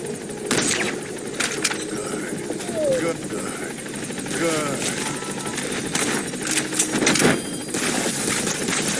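Support helicopter arriving at a landing zone in Metal Gear Solid 5, its rotor throb continuous and loud beneath scattered gunfire cracks and radio-style voices talking over it.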